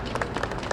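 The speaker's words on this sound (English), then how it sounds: "give yourselves a round of applause" Audience applause at a Union County monument ceremony, a brief soft patter of scattered hand claps from a crowd.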